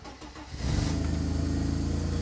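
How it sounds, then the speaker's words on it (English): A 1988-1995 Mercedes car engine cranks briefly and catches, then settles into a steady, loud idle that continues to the end. "Now let's start the engine."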